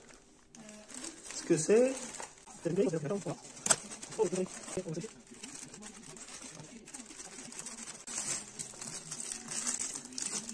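Plastic packaging crinkles and rustles as a parcel holding a fuel hose and a small fuel filter for a 125 YZ motorcycle is unwrapped close by, the crackling running on and off beneath someone speaking French.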